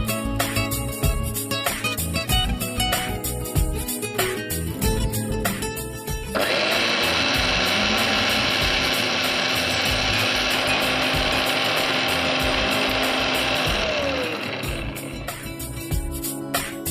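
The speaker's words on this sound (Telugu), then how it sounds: "ఈలోగా మనం ఉల్లిపాయ పేస్ట్ రెడీ చేసేస్తాం." A mixer grinder whirs loudly for about eight seconds while blending onion paste, starting abruptly mid-clip amid clattering kitchen sounds and winding down before the end.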